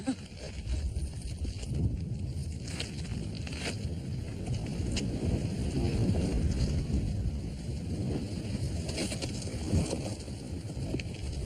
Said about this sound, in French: C'est froid, il y a du vent.